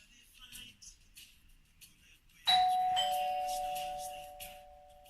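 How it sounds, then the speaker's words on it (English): A doorbell chimes once loudly, its two-tone ding-dong ringing out clearly and decaying slowly over faint background sound. "the system can react to a noise which has been trained to the system, in this case a doorbell"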